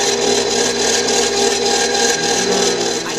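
A spatula scrapes lime sherbet into an ice cream freezer, making a loud, continuous rough scraping and rubbing with a faint rhythmic pulse throughout, no speech.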